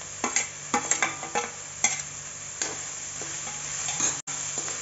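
Capsicum and tomato sauté in a pan for street-style masala Maggi noodles: a soft continuous sizzle punctuated by repeated sharp spatula clicks and scrapes against the pan, close up, with no voices.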